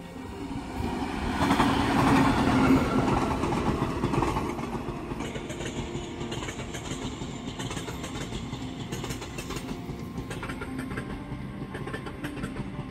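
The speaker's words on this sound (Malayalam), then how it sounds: "അപ്പോൾ നമ്മളതേ അപ്പുറത്തോടുള്ള ട്രാക്കിൽ കൂടിയാണ് ആ ട്രെയിൻ വരുന്നത്." A special train hauled by a locomotive passes at speed on the far track along a walkway in Kochi. Its rumble swells, peaks up close, then settles into steady rolling clatter from the wagons.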